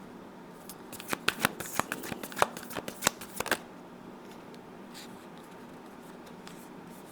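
Tarot cards being shuffled by hand for a reading, a quick run of crisp riffling flicks and taps up close for a few seconds, then quiet room tone; a voice speaks briefly.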